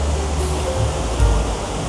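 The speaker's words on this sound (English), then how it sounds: "this side, we are just closer to the waterfall" Waterfall at the Dubai Water Canal in Business Bay at night gives a steady, close rushing wash of falling water with a low rumble and a brief swell, no talk heard.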